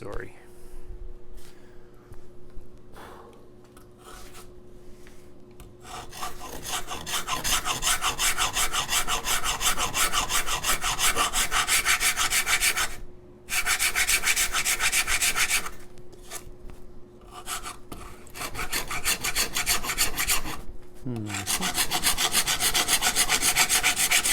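Coarse and fine rasps and a file scraping across the wooden body of a thinline electric guitar while shaping an arm bevel, in repeated rhythmic strokes with short pauses between bursts, close and fairly loud.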